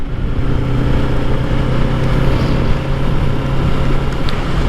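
A new 2025 Kawasaki Ninja 650 on the road during break-in, its engine droning loud and steady at moderate revs with a continuous low hum and wind rush, held without sharp climbs.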